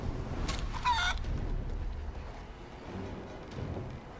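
A chicken in Divinity: Original Sin 2 (a character in chicken form) clucks in brief bursts near the start amid ambient game noise, with fainter clucks later on.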